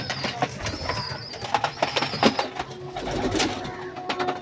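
White pigeons coo and rustle nearby, soft throaty calls mixed with brief wing flaps and shuffling, moderately close with some background noise and no speech.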